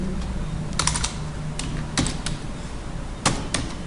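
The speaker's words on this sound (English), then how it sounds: "again I type input name equal to T1," Fingers type on a computer keyboard while entering code, producing irregular clusters of quick, crisp key clicks, close and moderately loud over steady background hiss.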